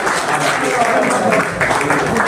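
An audience at a ghazal poetry recital applauds to welcome a young poet, a dense burst of clapping that continues while a voice speaks over it.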